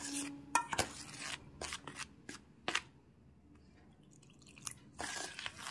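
Batter for Bengali eggplant fritters (beguni) is mixed by hand in a bowl as water is added a little at a time, giving close, wet crunching and slapping bursts with short pauses between them.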